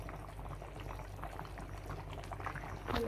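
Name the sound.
snail curry boiling in a pot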